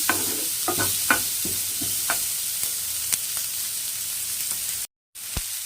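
Chopped onions sauté in a hot pan as the base for a restaurant-style gravy. A steady, close sizzle runs throughout, broken by spoon or spatula scrapes and taps, and stops briefly near the end.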